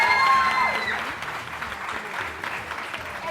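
A studio audience on a TV morning show claps steadily, loud at first and then easing slightly over a few seconds, with no talk over it.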